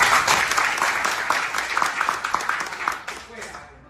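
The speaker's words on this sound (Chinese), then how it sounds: "大家再一次热烈的掌声来" A crowd at a temple donation ceremony for a police branch in Yuanlin, Changhua County, gives dense, sustained applause that slowly fades out, with speech mixed in.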